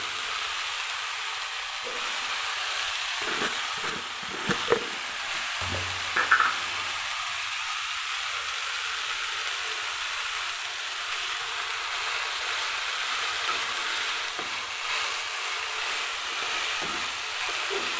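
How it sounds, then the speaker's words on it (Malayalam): Mustard seeds, chili, onion, grated coconut and green chili sautéing in a pan for a spinach thoran, giving an even, continuous sizzling hiss with a couple of soft knocks and scrapes early on. "കടുക്, മുളക്, അത് കഴിഞ്ഞിട്ട് സവോള, തേങ്ങ, പിന്നെ പച്ചമുളക് ഇട്ടിട്ട് വഴറ്റി ഒന്ന് അടച്ച് വയ്ക്കുക"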